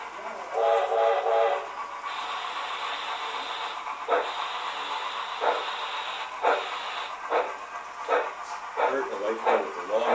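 A model train engine in the Denver yard shoves a long string of cars, a continuous rolling rumble and hiss broken by several short whistle blasts, with someone talking over it.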